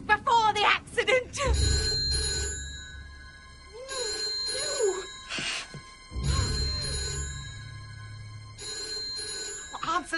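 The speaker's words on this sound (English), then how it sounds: "Answer the bloody phone." A telephone bell rings in repeated bursts with pauses between them, sounding through an indoor scene while people argue and talk over and between the rings.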